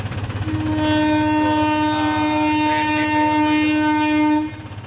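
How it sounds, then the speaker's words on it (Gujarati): A train passes close by a closed railway crossing, sounding a long, loud horn blast over the rumble of its wheels, which fades slightly at the end. "ટ્રેન નીકળી જાય ત્યાં સુધી આપણે ઉભવાનું જ છે"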